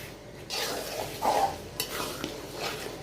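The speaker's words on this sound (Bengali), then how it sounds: "এই তো মশলাটা কষানো হয়ে যাচ্ছে।" Spice paste stir-fried in a pot for a chicken bhuna with whole garlic cloves, a soft sizzle with a few scraping stirs and light clinks of a utensil, moderately close and without speech.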